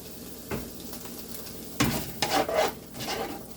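A spoon stirs jarred garlic into a pan of penne pasta ingredients, giving scraping, clattering strokes with light sizzling. They come in a few quick bursts toward the end after quieter moments, with no talking.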